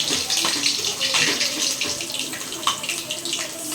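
Chicken pieces fry in hot oil for hotel-style chicken, making a dense, loud, continuous crackling sizzle close by.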